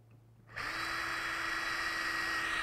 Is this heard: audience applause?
no